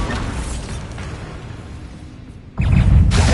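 The Bombarda explosion spell in Hogwarts Legacy on PS5: a low rumble of combat noise gives way to a sudden loud blast that keeps booming for the last second.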